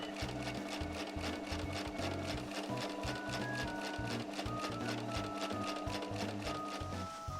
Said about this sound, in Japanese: ポケットの周囲をロックミシンかけていきます